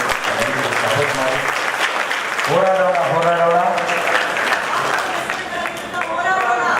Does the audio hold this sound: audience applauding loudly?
yes